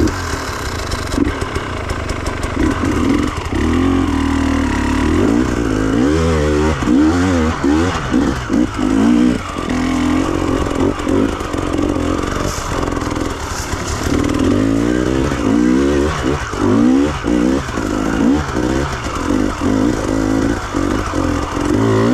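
A KTM TPI two-stroke motorcycle engine idles and then revs repeatedly after an idle screw adjustment, loud and close, with rising and falling throttle blips over a steady running note and no talk.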